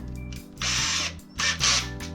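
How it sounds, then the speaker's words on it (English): A power drill whirs in two short bursts, biting into wood with a rising high-pitched grind, separated by a brief pause. "I'll go around and drill all the corners so I can put some longer screws"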